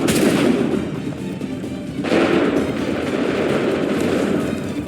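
A musket volley in the video game Assassin's Creed 3 crashes out as dense, rumbling gunfire, swelling again with a second burst around the midpoint and sustaining as a loud battlefield roar.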